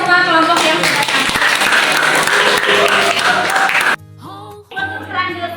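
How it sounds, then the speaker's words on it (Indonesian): Students applaud student groups after their classroom presentations, a dense burst of clapping for about four seconds that breaks off, followed by a teacher's voice speaking. "Tepuk tangan buat semua kelompok yang sudah tampil."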